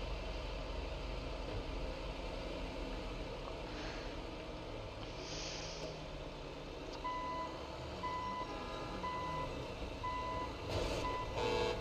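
A truck moves in a video game, its engine a low steady rumble while evenly spaced reversing beeps start partway through and repeat at a regular pace, with a few faint clanks around them.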